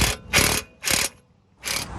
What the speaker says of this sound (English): So up next is taking off the bolts here for the brake caliper.